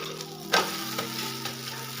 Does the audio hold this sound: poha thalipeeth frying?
yes